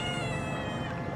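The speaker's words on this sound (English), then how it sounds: "Get back, cat." A cat meows once in a drawn-out, fairly loud cry at close range in a home, with steady room noise beneath and no talking.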